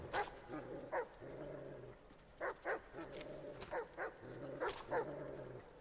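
A dog in a video game barks in short clusters of sharp woofs and yips with growly whimpering between them, repeating in bursts over a low game ambience, moderately close.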